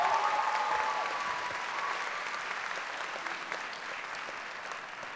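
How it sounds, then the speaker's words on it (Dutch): A concert audience gives a pianist sustained applause, a dense, even wash of many hands clapping at a steady level throughout, fading only slightly. "Ik wil graag een groot applaus voor hem"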